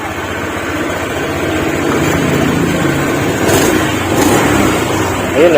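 Honda Click scooter engine with an HIRC hi-flow air filter, revving steadily at a raised idle up close, loud and continuous with slight swells in pitch.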